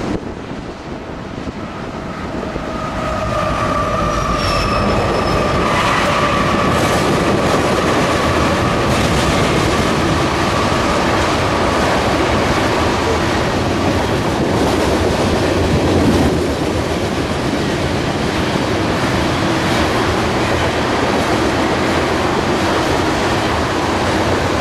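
A wet, rain-soaked coal freight train rolls past close by, a loud sustained rumble of wagons with clattering wheels, squealing tones early on and heavy wind buffeting the microphone throughout.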